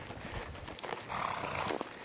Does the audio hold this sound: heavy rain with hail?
no